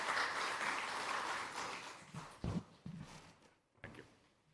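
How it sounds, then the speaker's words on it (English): Conference audience applause at a semiconductor industry event in India, fairly faint, fading out into a few scattered claps and footstep-like knocks. "let's give a round of applause to Nivruti Rai"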